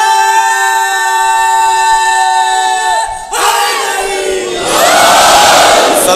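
A large majlis audience chants a religious slogan together, a loud sustained unison tone that breaks off and swells into a roaring collective shout.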